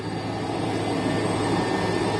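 Turkish Armed Forces rescue helicopter heard from close by or on board, a loud steady rotor and engine roar that fills the whole clip with no break.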